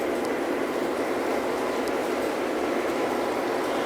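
A Lionel model freight train runs along its track, making a steady rolling rumble and hiss with a few faint ticks from the wheels.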